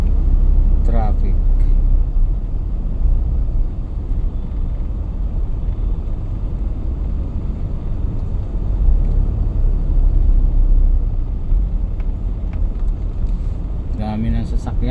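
Heavy road traffic near Mega Mall in the Philippines forms a loud, constant low rumble of engines throughout, with a couple of brief horn-like tones. Someone talks over it.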